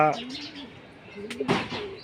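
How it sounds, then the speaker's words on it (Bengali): Pigeons, including a red-necked male, fly in and coo softly in a short burst of low, rolling calls, with a flutter or clatter partway through and a voice talking alongside. "বন্ধুরা, এইমাত্র আরও কয়েকটা কবুতর আসছে"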